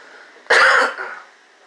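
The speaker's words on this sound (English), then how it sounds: "Smoker's cough." A single harsh smoker's cough from a man, one loud rough burst lasting about half a second with a short raspy tail, close to the microphone over a quiet room.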